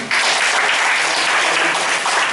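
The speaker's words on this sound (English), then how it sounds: "Can we have a huge round of applause?" Brief burst of audience applause for student presenters after a Google Drive and Google+ presentation, a dense, even wash of clapping hands lasting just over two seconds with no talk.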